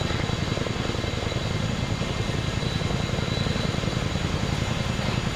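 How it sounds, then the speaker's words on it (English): A helicopter engine in a video game idles near, its rotor giving a dense, rapid, even throb that holds at constant loudness the whole time. "It's the sound of the helicopter."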